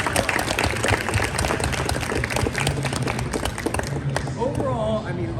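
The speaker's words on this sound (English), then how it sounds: "So, round of applause for you guys." Applause for two wrestlers at a wrestling team's end-of-season dinner, a room of hands clapping loudly and steadily with scattered cheers, fading slightly near the end as a voice starts speaking.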